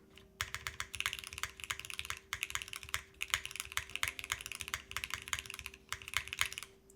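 Fast, continuous typing on a Class65 V3 mechanical keyboard with a polypropylene plate, crisp close-up keystrokes in bursts with brief pauses between them.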